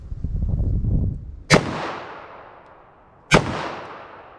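Two loud, sharp gunshots from a .357 Magnum revolver firing Hornady Backcountry Defense rounds, about two seconds apart. Each crack rings out with a long, fading echo, and a low rumble is audible before the first shot.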